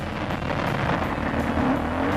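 A stunt motorcycle accelerates into a wheelie, its engine giving a steady, loud, close roar that holds without a break.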